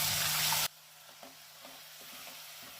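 Spice-washing water poured into a thick frying masala for Bengali katla fish do pyaza, a loud hissing burst that cuts off abruptly, followed by quieter sizzling and soft, scattered stirring taps in the pan.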